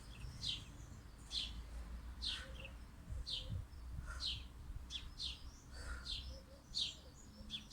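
Small birds chirping outdoors in a steady series of short, bright tweets, moderately near over a low, quiet background, with no speech during the calls.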